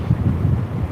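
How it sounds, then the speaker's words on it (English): Strong wind buffets the microphone in low, gusty rumbles during catfishing on a sunny day, with a faint wash of water beneath. "Again, windy."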